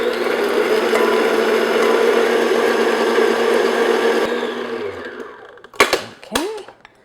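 An electric mixer beats a large room-temperature egg into gingerbread cookie dough, a loud steady whir that winds down, followed by a few clunks and scraping knocks.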